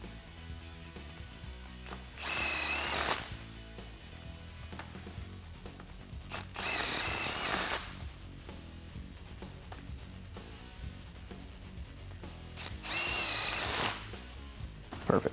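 A power tool with an 8mm hex socket drives down strut bolts on a 2009-2018 Ram 1500 during a lift kit install, whirring in three loud bursts with quiet gaps between them.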